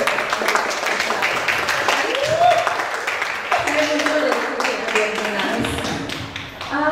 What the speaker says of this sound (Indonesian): Kayaknya tepuk tangan dulu deh